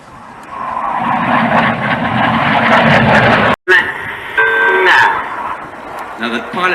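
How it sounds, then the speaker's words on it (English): Red Arrows jets flying in line astern at the Duxford Battle of Britain airshow, a loud sustained jet roar from the distance that drops out briefly and then returns, with commentary over it. "Using a lot of their rudder to swing the jets out like a pendulum to maintain that line astern"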